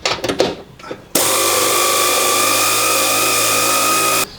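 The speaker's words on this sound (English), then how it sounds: "I'm going to try using the air ratchet now that it's broken loose." A pneumatic air ratchet spins off rusted nuts under a van, starting with a few clanks and short bursts before breaking into a loud, steady whirring buzz close by that runs for about three seconds and then cuts off abruptly.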